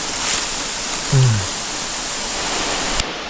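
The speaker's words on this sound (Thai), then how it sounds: "ข้างล่างก็จะเป็นน้ำตก" A waterfall below a hillside pool roars as a steady, broad rush of falling water, continuous and fairly loud, with a faint brief voice and a click partway through.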